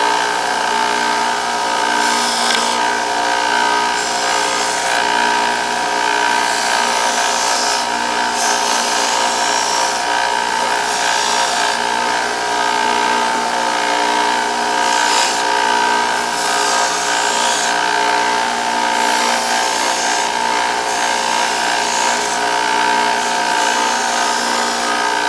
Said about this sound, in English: now I'm going to sand it off